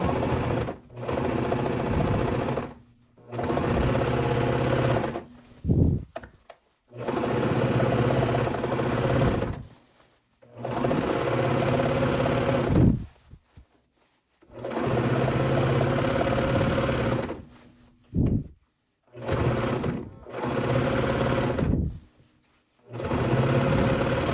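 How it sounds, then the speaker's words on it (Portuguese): A sewing machine stitching a tubular seam around the edge of fabric, running in loud steady bursts of several seconds each, separated by short pauses. "Agora eu vou levar na máquina e passar a costura aqui em volta."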